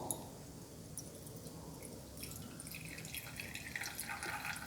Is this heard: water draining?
yes